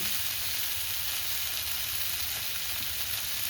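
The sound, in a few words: bori (lentil dumplings) frying in ghee for neem ghonto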